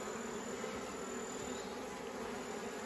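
Bees buzzing around a wild honeycomb dug from the ground on a hillside, a steady, dense drone of many insects close by, continuous throughout with no talking.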